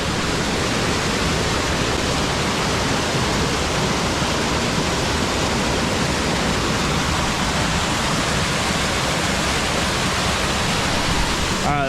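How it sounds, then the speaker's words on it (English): A small river runs along the bottom of a waterfall in Shenandoah National Park, giving a steady, dense broadband rush of flowing water. It sounds close and continuous, with no talk over it. "I thought it was going to be a lot more of like a straight down waterfall right here, but it's actually like a little river running through the bottom of it"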